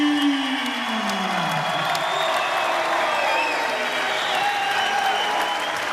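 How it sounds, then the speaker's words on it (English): A volleyball crowd gives a lone senior player a standing ovation, with dense, loud, sustained applause and scattered cheers filling the arena, and a voice trailing off at the start. "the UCSB guys now are giving him a standing ovation"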